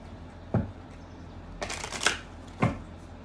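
Oracle cards get shuffled by hand in a few quick riffles and snaps: a crisp flutter, a longer rustling run, then another short snap, close and clear in a quiet room.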